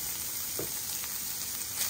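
Cooked beef steak sizzles in its own fat on a comal, a steady close frying hiss with faint pops and no voices.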